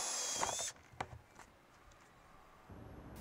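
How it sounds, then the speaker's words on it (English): A 7/8 inch spade drill bores a hole in a plastic rain barrel container: a brief high whining drill burst at the start, then quiet scraping and clicks before the motor whine returns at the end. "we drill a hole in the container."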